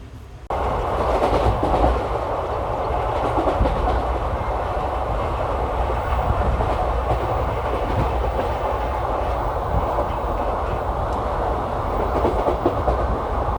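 Garudadri Express running from Tirupati to Chennai, a steady loud rumble and clatter of wheels heard from inside a packed general reservation coach, with no talking.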